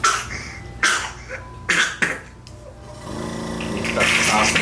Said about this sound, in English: I want to make sure that he stops coughing.